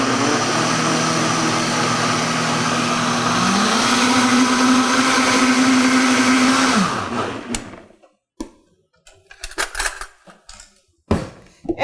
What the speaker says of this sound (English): And with the Vitamix, we're going to turn it on.